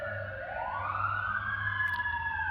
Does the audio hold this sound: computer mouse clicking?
no